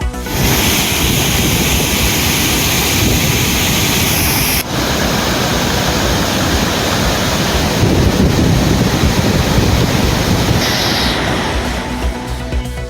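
Powerful floodwater rushes over Kovai Kutralam waterfall, roaring continuously, loud and close, with gusts of wind buffeting the microphone.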